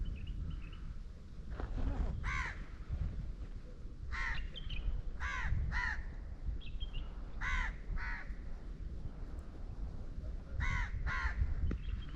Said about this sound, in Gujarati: સામે અત્યારે નીચે ઘણા બધા કાગડા બેઠા છે